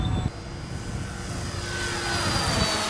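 An FMS P-47 Thunderbolt RC model airplane at half throttle, its electric motor and propeller giving a steady whining drone that rises slightly as it continues, with a bump at the start.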